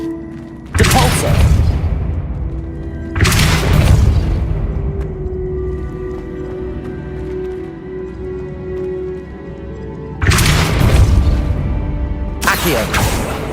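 Depulso spell blasts in the Hogwarts Legacy video game, four loud booming bursts with whooshing impact at irregular intervals, each decaying into a rumbling tail over a low game hum.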